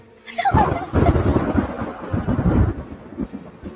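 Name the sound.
thunder strike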